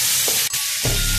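Frying chicken sizzles steadily while a wooden spoon stirs it, with a few scraping pushes through the pan and a brief clack partway through, heard alone.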